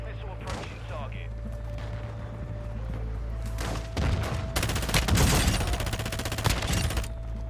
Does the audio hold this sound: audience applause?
no